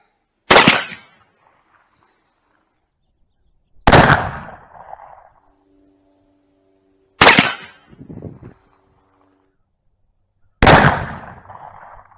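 Four loud, sharp shots from 1860 Army revolvers in a shootout, spaced a few seconds apart, each one cracking out alone and ringing briefly before silence.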